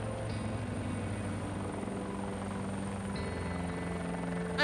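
A helicopter in flight gives a steady, dense rotor and engine roar with a low throbbing drone, continuous and close, heard alone without talk.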